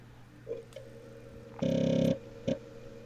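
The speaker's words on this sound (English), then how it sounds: "No, that was the floppy drive." Floppy disk drive working, a faint low hum broken by short clicks and then a louder buzzing grind lasting about half a second, followed by one more brief click.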